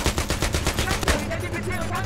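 Rapid bursts of automatic gunfire in the shooter Battlefield 3, loud and close with dense rattling volleys, then a rumbling battle din with a voice talking briefly underneath.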